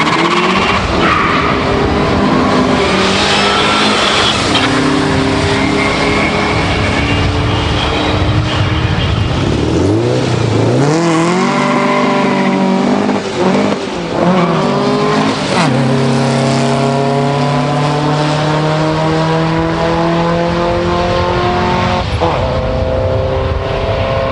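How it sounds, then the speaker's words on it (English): A Volkswagen Golf race car engine roars loud and close at Bug Jam, revving up and down through rising and falling pitch sweeps over continuous rumble and crowd noise. "And this is Richard Merriman in his little Golf he's been using for race duties recently"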